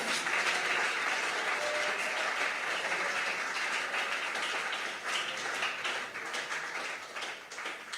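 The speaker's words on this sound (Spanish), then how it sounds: "¿Por qué no le da un aplauso con más vida a Dios?" A church congregation claps in lively, sustained applause, a dense wash of hand claps that stays loud throughout and tapers slightly near the end.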